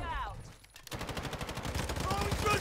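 Call of Duty MW2 gunfire: after a short lull, a rapid burst of automatic shots rattles out in a fast steady rhythm, loud and close.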